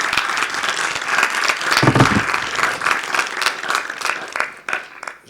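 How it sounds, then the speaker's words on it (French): An audience applauds at a public discussion event on the productive, food-growing city, with dense, sustained clapping from many hands that swells around the middle and then thins out toward the end. "Je propose qu'on vous applaudisse tous"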